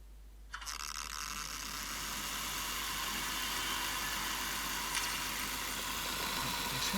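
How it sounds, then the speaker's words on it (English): A Revolution Trains Class 321 N gauge model power car runs on a rolling road with its sound fitted, a steady electric hum and whirr, with faint rattling, that starts abruptly and keeps going evenly at close range. "So I've put the power car onto the rolling road, and we've got the sound"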